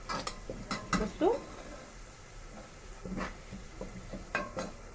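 Onion left to brown in a pan for macaroni in red sauce, a soft sizzle under scattered clinks and scrapes of a utensil on the pan, fairly quiet, with a few faint vocal sounds.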